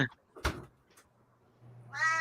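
Indoor house cat gives a short meow at the very end, preceded by a couple of soft knocks or door-like thumps and a low hum, with no talking.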